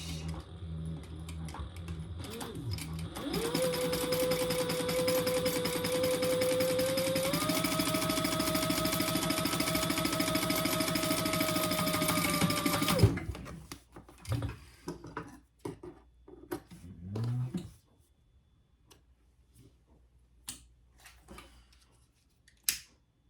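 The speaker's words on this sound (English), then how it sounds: "now I'm gonna top stitch the top of it and 1/8 of an inch" A sewing machine runs steadily for about ten seconds, top stitching 1/8 inch along the top edge of an Evelyn bag with polyester thread, its motor hum holding a constant tone and then stopping, followed by a few brief handling clatters.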